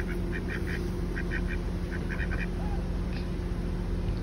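Ducks quacking by a lake, short clustered quacks in quick bursts over a steady outdoor hum, moderately near.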